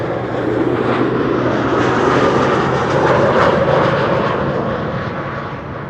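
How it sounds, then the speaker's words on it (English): A GE90 jet engine spools up on an aircraft at Amsterdam Schiphol, a loud continuous roar that builds and swells slightly before easing, with no voices over it. "Second GE90 is starting. You can probably hear it as well."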